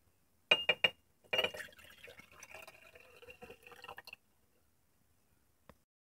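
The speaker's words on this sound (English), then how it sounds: "Transfer some of the fluid, excess fluids, to this jar." Excess fluid from gold recovery of e-waste circuit board pieces poured into a glass jar: a few sharp clinks of glass, then a steady trickling pour lasting a few seconds, close and fairly quiet, ending with a faint tap.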